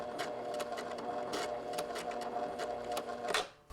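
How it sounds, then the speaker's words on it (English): Short bursts of a sewing machine backstitching on a bolero collar at a short stitch length, a few quick forward stitches then reverse, giving a rhythmic clatter of evenly spaced needle strikes, close and clear. "now I'm going to go forward 4 stitches and then backward 4 stitches"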